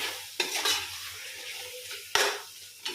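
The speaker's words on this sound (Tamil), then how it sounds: "தயிரையும் சேர்த்து வதக்கணும் அப்படின்னா அடி பிடிக்காமல் இருக்குங்க" Tomatoes and curd sautéing in a pan for prawn biryani, a soft steady sizzle broken by a few sharp spoon scrapes against the pan, close by.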